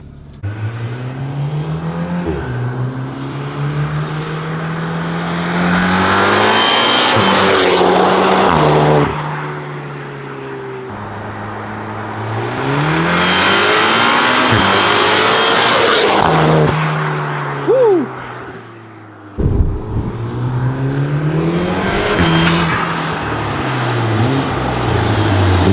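Tuned MK7 VW Golf R accelerating hard in a flyby, with loud rising engine revs through several gear changes, a sharp pop in the middle, and the car rushing close past before pulling away.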